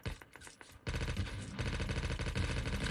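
Automatic gunfire from the mobile shooter Call of Duty: Mobile, rapid dense bursts that start lighter and then become loud and sustained, rattling continuously for the remaining couple of seconds.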